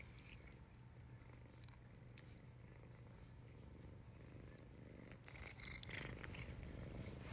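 A pet cat purring softly and steadily up close, a low continuous rumble with a few faint background clicks and rustles.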